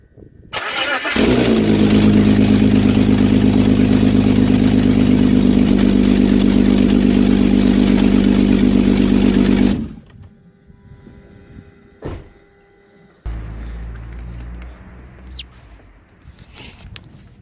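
A BMW E39 with a turbocharged M54 engine cranks and catches, then runs loud and steady for about nine seconds before shutting off abruptly, leaving faint clunks and quiet handling noises nearby.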